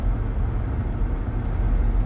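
A 2008 Range Rover engine with a lean running condition is pushed to wide open throttle from about 55 mph, climbing toward 4500 RPM: a loud, steady, low engine roar fills the whole stretch with no talking.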